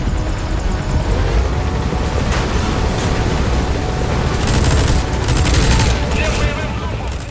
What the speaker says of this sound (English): we'll use the helicopter's minigun to take out enemies